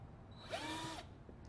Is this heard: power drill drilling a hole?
yes